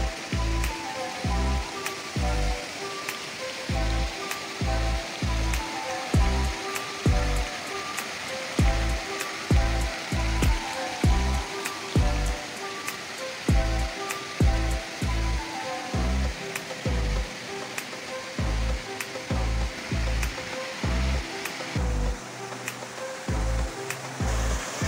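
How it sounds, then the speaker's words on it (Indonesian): Water splashes and rushes continuously at Wailapo waterfall in Amahai, Maluku, a steady broadband roar with regular low thumps pulsing beneath it throughout. "Pemandangan air terjun, suara gemericik air"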